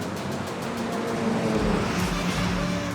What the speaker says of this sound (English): the V8 sound when you're on track